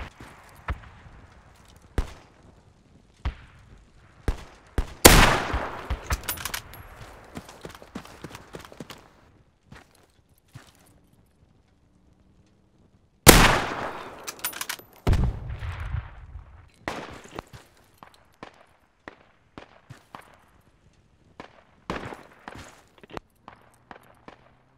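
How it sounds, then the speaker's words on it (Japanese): Sharp video game gunshots crack out in scattered bursts at very close range on the Al Basrah map, with dense clusters of rapid fire between quieter stretches of footsteps and rustling. "えらい近くから銃声してる"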